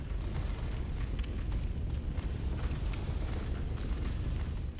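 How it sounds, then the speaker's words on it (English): Fire burning in the video game Bloodborne, a dense continuous roaring rumble with crackling bursts, steady and loud throughout. "There's a lot of fire going on there."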